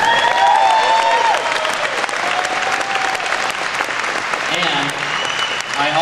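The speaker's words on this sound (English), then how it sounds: "Let's give him a round of applause." A company event audience gives a loud, sustained round of applause that holds steady for several seconds, with a few whoops and voices rising above the clapping.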